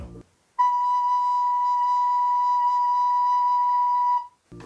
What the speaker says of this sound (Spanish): que suenen igual las flautas